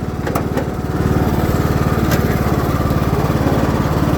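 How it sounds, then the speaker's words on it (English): A Craftsman LT2000 riding mower drives along, its small engine running loud and close with a steady, slightly rising drone. "She's moving pretty quick too. Good drive belt. Yeah, nice mower already."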